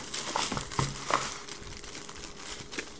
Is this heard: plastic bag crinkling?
yes